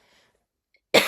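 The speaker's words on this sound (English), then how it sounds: "I need to go because I'm coughing." A single sharp cough bursts out near the end after near silence, close and fairly loud, from a person talking about books at home.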